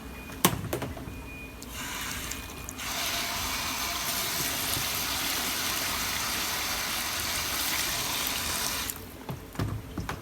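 A pillowcase is washed by hand in water with laundry detergent and bleach: a steady, full rush of running water fills the middle of the clip, bracketed by close clatter and splashing at the start and end.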